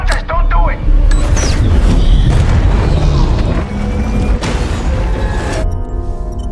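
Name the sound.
bomb explosion in a film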